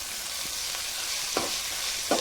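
Green chilies fry in a pan with a steady crackling sizzle, punctuated by a few brief scrapes of stirring.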